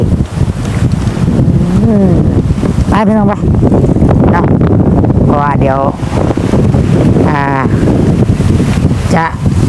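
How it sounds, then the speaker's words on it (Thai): Strong wind gusting across open rice fields at harvest time buffets the microphone as a loud, continuous rumbling roar, with someone talking over it throughout. "ลมคักอะไรพี่น้อง"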